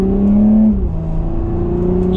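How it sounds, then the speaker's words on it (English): A 2020 Porsche Cayenne Coupe exhaust drones smoothly and close by as it accelerates gently in Sport Plus mode, a steady low engine note with a slight dip in pitch. "give it a little bit of gas in Sport Plus mode now"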